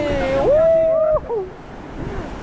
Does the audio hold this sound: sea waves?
yes